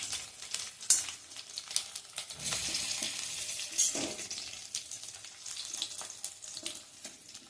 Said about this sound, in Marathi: हे पुन्हा 1-2 मिनिटं परतून घ्यायचंय